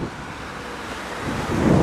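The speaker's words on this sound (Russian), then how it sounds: "И ветрище страшное." Strong wind gusts across an outdoor street beside a construction site, a steady broadband roar buffeting the microphone and swelling louder toward the end, with no voices.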